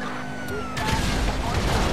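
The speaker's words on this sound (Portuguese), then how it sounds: "Vamos usar a bombinha nesses caras aqui" A bomb blast in GTA V, a sudden heavy crash that swells into a broad rumbling boom, loud and close, lingering with debris-like noise after the hit.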